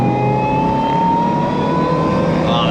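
Supercharged 1.5-litre Suzuki Jimny accelerating, a steady engine drone with a rising high supercharger whine running continuously throughout, loud and close.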